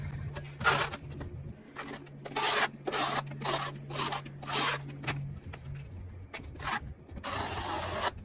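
A notched trowel spreads tile adhesive across a substrate in a run of close, rhythmic scraping strokes, each a short hissing rasp separated by brief pauses. A wider, softer sweep comes at the end.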